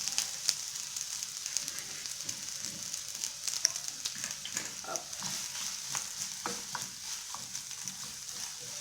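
Onion sizzles in olive oil in a tagine, a close, continuous frying hiss with scraping stir strokes and small crackles throughout.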